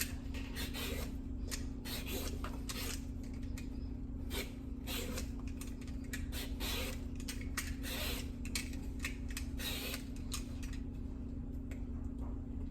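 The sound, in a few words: peeling skin off an eggplant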